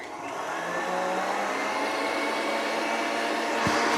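Electric mixer whipping cream for strawberry shortcake: a steady, continuous motor whir holding even loudness throughout, with no talking over it.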